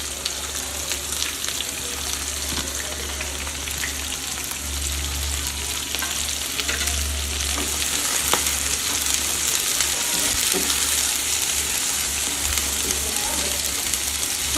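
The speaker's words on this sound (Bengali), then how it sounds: "আপনারা এইভাবে ভালোভাবে নেড়ে চেড়ে ভেজে নেবেন" Medium-sized onions sizzle steadily in hot oil over a medium flame while being stirred, a continuous close, crackling fry with occasional scraping throughout.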